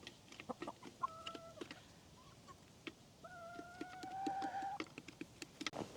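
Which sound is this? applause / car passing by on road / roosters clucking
roosters clucking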